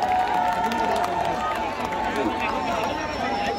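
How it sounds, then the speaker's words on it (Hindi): Large crowd at a grand fan meetup in Haryana clapping and cheering steadily for the guests, a dense continuous wash of applause with crowd noise and chatter throughout. "तो एक बार इनके लिए जोरदार तालियां"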